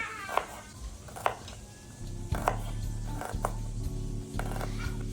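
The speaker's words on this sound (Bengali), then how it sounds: "এদিকে মাছ ভাজতে ভাজতে আমরা পেঁয়াজগুলোকেও সুন্দর মতো কুচি করে কেটে নিব" Onions being finely chopped with a knife in a Bengali home kitchen while rohu fish fries nearby: a handful of sharp, spaced knife strikes, roughly one per second, over a steady low frying hum.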